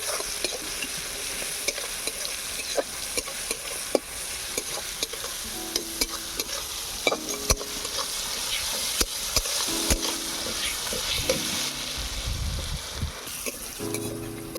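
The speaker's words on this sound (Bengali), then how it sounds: "পেঁয়াজ রসুনটাকে লাল লাল করে ভেজে নেব।" Onion and garlic paste frying in hot oil in a village kitchen, a steady close sizzle with occasional scrapes and stirring clatter, no talking.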